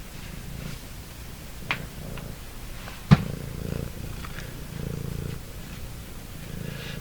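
A cat purrs in a low, steady rumble close by, with a couple of faint clicks and a sharp knock partway through.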